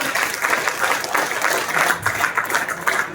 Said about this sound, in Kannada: ಚಪ್ಪಾಳೆ ಮಾಡಿ ನರಸಿಂಹ ಅವರಿಗೆ